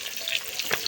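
Tilapia fish frying in hot oil for a potato and fish dish, a steady close sizzle with a brief louder crackle near the end.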